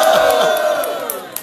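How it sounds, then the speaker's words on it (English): A crowd cheers and shouts together at a rally-like gathering about Nigeria, loud sustained voices rising in unison with a few sharp claps near the end. "Applaud everybody."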